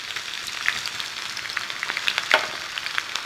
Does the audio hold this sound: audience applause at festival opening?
no